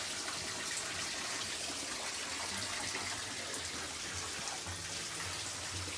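Water spraying and dripping inside a tomato greenhouse, a steady broadband hiss of droplets and spatter running continuously at low level with no talk.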